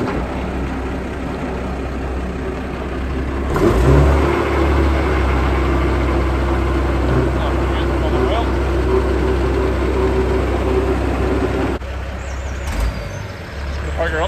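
Engine starting up and settling into a steady low idle, a loud rumble after a brief quieter stretch, then cutting off near the end.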